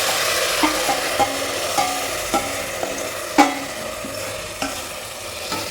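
Marinated mutton stir-fried in a well-cooked curry masala paste in a pan: a constant sizzle runs under regular scraping clacks of a spoon, close and fairly loud, with no talking.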